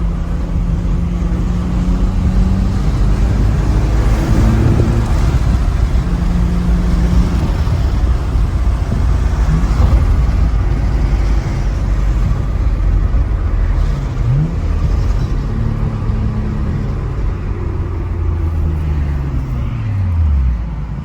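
1995 Nissan Skyline GT-R R33 V-Spec with its RB26 engine running under boost, a loud steady drone with rising and falling revs heard from inside the car during a drive.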